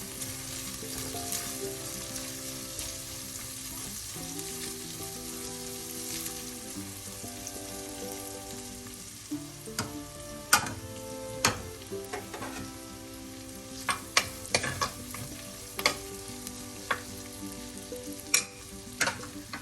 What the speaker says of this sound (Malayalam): ചെറുതായി ഒന്ന് വാടുമ്പോൾ ഇതിലേക്ക് 1/4 ടീസ്പൂൺ മഞ്ഞൾപ്പൊടി എണ്ണയിലേക്ക് ഇടാം. അതിൽ കിടന്നൊന്ന് മൂക്കട്ടെ.